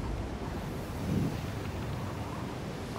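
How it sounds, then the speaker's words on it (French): Steady wind whooshing in the Star Citizen space game, a continuous broad rush with a brief swell partway through, no voices over it. "Il y a du vent."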